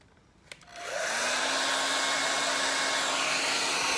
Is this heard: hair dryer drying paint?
yes